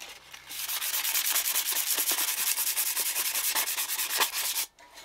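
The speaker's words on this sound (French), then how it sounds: "il faut vraiment gratter de manière arrondie, ou comme ça et comme ça" Steady abrasive scraping on van bodywork, rubbed back and forth in rounded strokes to prepare the metal before fitting a wood stove; continuous, close and fairly loud, stopping abruptly near the end.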